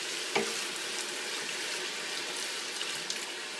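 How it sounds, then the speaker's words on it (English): A good cup of Chardonnay wine poured into a hot pan with sweated garlic over medium heat sizzles steadily and fairly quietly, with a soft hiss that stays even and is not interrupted by talk. "Now we're going to put in a good cup of the Chardonnay."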